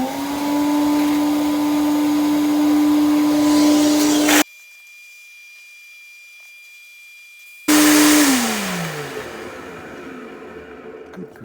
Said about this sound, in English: Well, back to vacuuming, I guess.